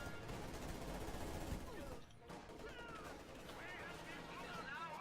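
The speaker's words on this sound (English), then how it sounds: "MG34 manages to get some shots off through the smoke." MG34 machine gun firing through smoke in Company of Heroes 2, a dense continuous rattle of game gunfire and battle noise under a commentator's voice.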